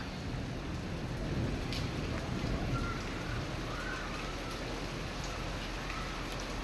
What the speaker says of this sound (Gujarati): આપણે આ વખતે સારું માવઠું થયું છે